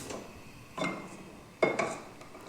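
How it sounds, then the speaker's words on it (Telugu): A kadai set down on a gas stove before roasting spices for radish-pod chilli powder, giving two or three short metallic clunks and scrapes, close and moderately loud, with no talking. "స్టవ్ ఆన్ చేసి కడాయి పెట్టుకుందాం"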